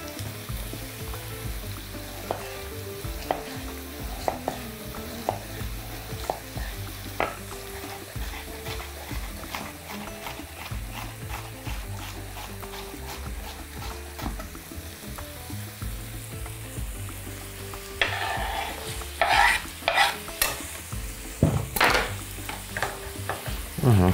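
Diced sweet pepper and other garnish ingredients fry in a pan and get stirred, the spoon clattering in steady repeated strokes over a constant sizzle, with more vigorous scraping toward the end.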